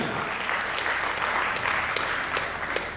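Applause from an audience at an honouring ceremony, with steady sustained clapping that fills the whole stretch at an even level and no speech on top.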